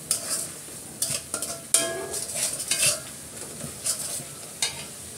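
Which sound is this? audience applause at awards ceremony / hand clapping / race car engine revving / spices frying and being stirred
spices frying and being stirred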